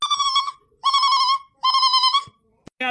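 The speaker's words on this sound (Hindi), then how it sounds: "यार मटको फोन आवता उठावा था" A phone ringtone chirps in three long warbling bursts with short pauses between them, loud and close, and a brief clatter follows.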